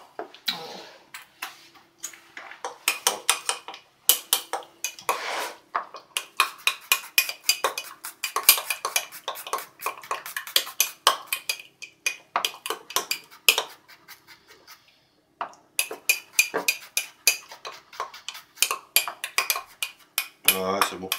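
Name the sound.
stirring garlic mixture in a pan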